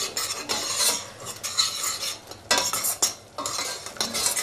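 A spiced soy mince curry with turmeric, cumin and coriander is stirred in a pan, giving bursts of scraping, clinking spoon strokes over a low bubbling simmer, close by with short pauses between strokes.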